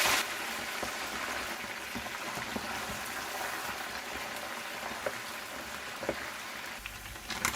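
Turkey meat fries in a pan with a steady, dense sizzle and crackle, close and continuous, with a few sharper pops and no one speaking.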